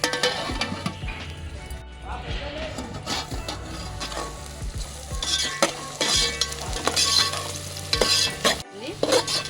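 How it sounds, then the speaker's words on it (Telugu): Onions sizzling in a pan for a mutton curry, a steady frying hiss with frequent scraping and clattering of a spoon stirring close by. "ఎర్రగా అయిందాక ఎంచుకోవాలి ఉల్లిగడ్డని."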